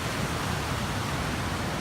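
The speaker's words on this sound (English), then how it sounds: "Nice waterfall." A waterfall on the John Muir Trail gives a steady, broadband rush of falling water, loud and unbroken throughout, with no voices.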